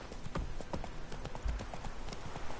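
Horse hooves clip-clop at a steady trotting rhythm in The Witcher 3, with a regular series of close, crisp hoof strikes and occasional heavier thuds over soft background ambience.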